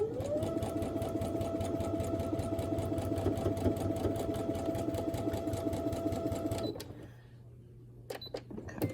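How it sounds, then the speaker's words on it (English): A home sewing machine runs steadily, stitching quilt block patches for a 64-patch postage stamp quilt, a fast even mechanical whir for about seven seconds before it stops and a few small handling clicks follow. "Put it up to your machine and just keep going."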